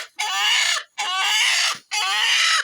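Hens in a small local poultry-rearing setup clucking in three loud, close bursts of rapid calls separated by short silences.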